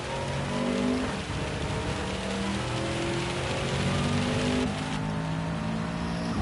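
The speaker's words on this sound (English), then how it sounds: "Confirmation that it is indeed raining." Rain falls steadily in the Gran Turismo 7 racing game, a constant hiss mixed with the drone of a race car engine whose pitch rises and falls.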